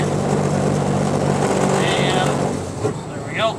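A car engine drones loud and steady on a mountain climb on US 30 in Pennsylvania, with the pitch shifting near the end as the driver downshifts.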